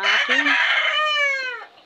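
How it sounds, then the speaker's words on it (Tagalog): A pet rooster lets out a single loud, close crow, preceded by a couple of short clucking notes, and then falls silent. "ang ingay ng manok"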